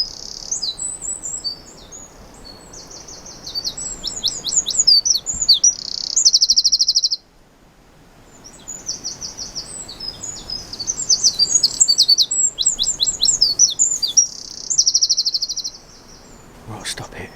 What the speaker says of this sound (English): I'll play it again for you.